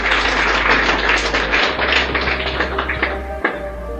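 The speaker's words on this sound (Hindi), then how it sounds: "तालियां बजा दें इनके लिए एक बार।" Audience applause in a seminar hall, a sustained wash of many hands clapping that carries on for several seconds before thinning out near the end, with a low steady hum underneath.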